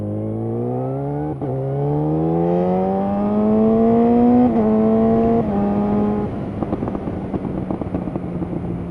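Motorcycle engine revving while riding, close and loud: a steady rising drone through the gears with a brief shift dip, then a rougher, pulsing tone as throttle eases, with wind rush throughout.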